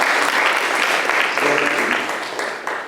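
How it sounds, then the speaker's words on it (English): Applause from a lecture audience at a talk on India's cultural history, a dense steady wash of clapping that fills the whole moment and thins slightly toward the end. "Would you applaud?"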